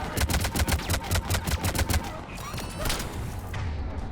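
Rapid volleys of gunfire from Cerberus troops in the Mass Effect Legendary game, a dense run of sharp cracks in quick rhythm, then scattered louder shots and a rumbling boom.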